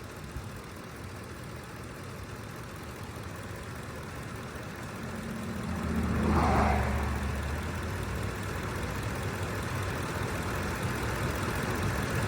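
A 2006 Ford F-150 pickup engine idles with a low, steady rumble during an alternator test, swelling briefly midway with a louder surge before settling back to a constant drone.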